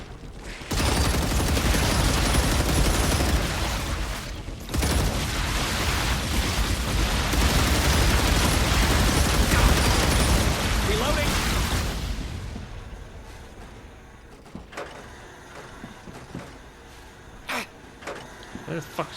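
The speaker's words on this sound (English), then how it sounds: "Where the fuck's shooting me?" Gunfire in the StarRupture game: a dense, loud roar of sustained shooting for about twelve seconds with a brief break, then a sudden drop to quieter scattered clicks and single sharp shots, with a voice talking over the action.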